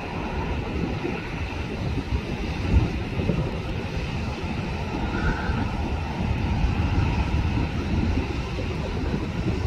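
Avianca airliner passing at LAX, a steady broad jet roar rumbling through the whole stretch, fairly distant and even, with no talking.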